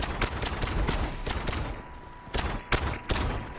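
Rapid gunshots fired behind the player in the Jumanji video game, a dense run of sharp close bursts with brief pauses, cracking loudly across the whole stretch.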